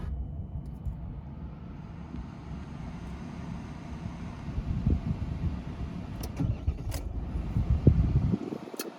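An LDV T60 ute engine is key-started, a low cranking rumble building over several seconds before catching, with a few faint clicks near the end.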